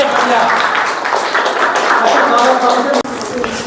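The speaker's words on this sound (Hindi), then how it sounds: "ताली बजाओ इसके लिए एक बार जोरदार" Children at a summer camp clap loudly together in a sustained burst of applause, with voices mixed in and a brief break near the end.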